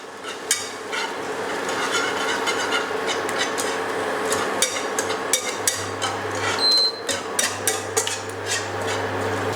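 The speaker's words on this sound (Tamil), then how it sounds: "இதை நல்லா அப்படியே ஃபுல்லாக விஸ்க் வச்சு நல்லா பீட் பண்ணி விட்ருங்க" Eggs are beaten with a whisk in a hot pan for egg tomato bhurji, producing steady scraping and tapping against the metal over a soft sizzle, close and fairly loud.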